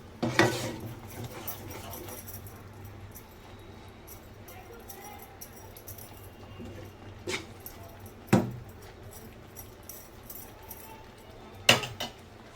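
Spoon scraping and clinking against a pan while masala is sautéed for chole, a few sharp metallic clinks standing out over a low steady kitchen background.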